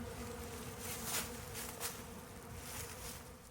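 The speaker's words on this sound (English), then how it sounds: "we had all of these bees coming in and out of both doors" Honey bees buzz steadily around a hive entrance, a dense close hum with a few individual bees passing louder near the microphone.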